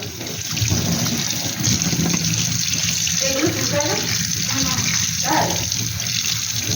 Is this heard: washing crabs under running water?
yes